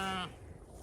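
A sheep gives a single short bleat close by that cuts off quickly, leaving a low outdoor rumble of farm background noise.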